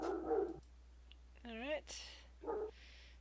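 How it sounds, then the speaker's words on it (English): A dog barks in the background of a tabletop role-playing game session, a few short, muffled barks spread across the moment, with a voice speaking briefly between them. "Sorry if you hear the dog barking."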